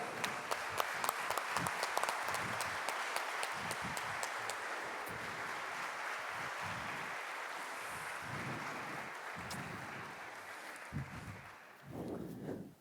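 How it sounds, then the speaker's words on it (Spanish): Audience applause welcoming a guest at a live podcast recording, a crowd clapping and cheering at moderate distance, strongest at the start and gradually fading, with some voices near the end. "Fuerte el aplauso."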